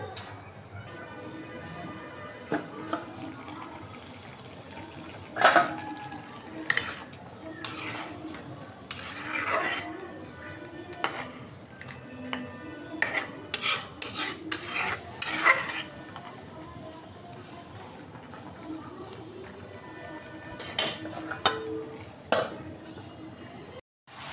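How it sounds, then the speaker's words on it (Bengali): Lentil dal being stirred and fried in a pan with roasted cumin powder, a spatula scraping and clinking in irregular bursts over a soft sizzle, close by and fairly quiet. "যে ডালটা আমি এখন কষাই নিতেছি।"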